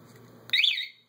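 An EW 36 mobility scooter's anti-theft alarm gives a short, loud electronic chirp up close, a single bright tone lasting about half a second that quickly cuts off into silence.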